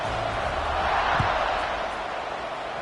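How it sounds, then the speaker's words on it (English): Football stadium crowd at a Kentucky vs Western Michigan game buzzing after a score, a broad steady roar that stays loud and even throughout, with one brief thump midway. "this crowd is buzzing after that last score"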